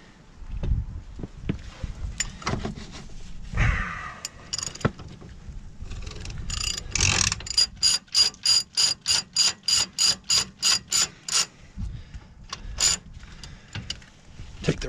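Ratchet wrench turning a nut on a Ford Super Duty truck brake assembly, giving a close, loud run of evenly spaced clicks in quick rhythm after a few scattered clanks and handling knocks.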